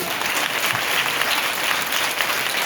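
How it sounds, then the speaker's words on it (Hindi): Dense, steady applause from a large audience, loud and continuous throughout with no voices standing out. "ताली बजा के।"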